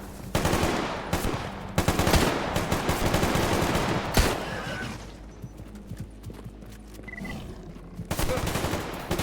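Dense bursts of automatic and single gunfire in the Stalker Anomaly video game, loud and rapid at first, then scattered shots and ambient game noise toward the end.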